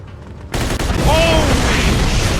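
Gunfire in the video game Mafia II breaks out suddenly as a dense, continuous loud barrage, with a thin whistling tone rising through the noise.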